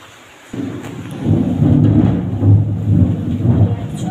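Thunder rumbling loudly during heavy monsoon rain, a deep rolling boom that swells in after a quiet start and keeps grumbling over the hiss of the downpour.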